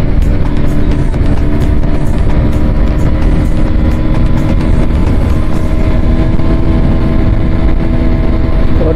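KTM RC 125 motorcycle engine running steadily at high revs while riding, a loud continuous drone with wind rush throughout, no clear gear changes standing out.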